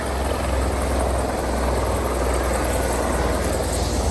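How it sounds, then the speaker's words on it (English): A helicopter landing on a lakeside beach roars steadily close by, its rotor chop and engine noise filling the air without pause. "Helicopter just landed on the beach."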